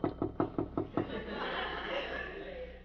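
Six quick, evenly spaced knocks on a door, close and crisp, followed by a muffled murmur of background noise and faint voices.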